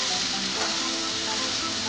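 Tomato paste hits a hot pan with mutton liver, producing a loud, continuous sizzle and frying hiss that stays even throughout with a light stirring scrape.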